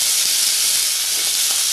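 Eggplant pieces set into hot oil in a heated kadhai, a loud, dense, steady sizzling hiss that continues unbroken throughout, close up.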